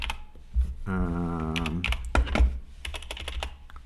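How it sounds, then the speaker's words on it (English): Rapid keyboard typing at a desk in the Atari ST adventure game Time Bandit, a close run of quick clicks and keystrokes, with a steady tonal game beep partway through and no talking. "I can go to a desk and apparently I can type"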